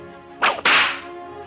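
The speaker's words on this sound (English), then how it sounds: "You will know when it's time to turn the page when you hear the bullwhip crack like this." A bullwhip cracks once, heard as a quick double snap with a hissy tail, loud and alone over faint background.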